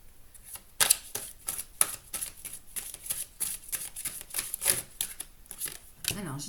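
A deck of tarot cards is cut and shuffled, giving soft riffling and tapping clicks in short bursts across the clip, close and fairly quiet, with a final flutter of cards at the end.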